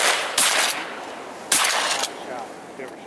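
Gunshots ring out on a duck hunt near Rockport, Texas: two sharp, loud blasts about a second apart, each trailing off into an outdoor echo, with no talk over them.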